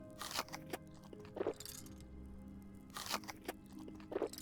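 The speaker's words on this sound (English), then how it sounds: "Let's go ahead and crunch it down." Crunching in the video game Smalland comes as a few sharp bursts spaced a second or so apart, fairly quiet and without talk.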